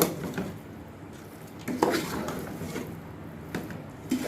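A spoon stirs chicken keema macaroni with fries in a cooking pot, producing soft scraping and occasional light clinks against the metal, fairly quiet and close, with no speech.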